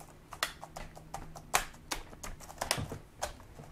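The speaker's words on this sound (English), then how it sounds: "You may hear a lot of cracking and popping." Plastic retaining clips on a Lenovo G70 laptop keyboard being pressed and snapped into place, heard as a quick irregular series of close, sharp clicks and small cracks with short pauses between them.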